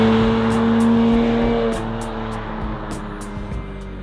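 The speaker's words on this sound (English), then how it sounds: "It's a crazy sounding H6, and the thing just makes beautiful noises." A Subaru Legacy GT with a swapped EZ30 flat-six engine and six-speed rear-wheel-drive conversion drones at steady revs nearby, then eases off slightly, with a smooth, continuous engine tone.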